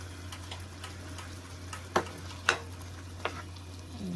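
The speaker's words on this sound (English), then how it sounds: "Just stir this nicely." Cottage pie filling is stirred in a pan with a faint sizzle beneath a few sharp spoon clicks and scrapes against the pan.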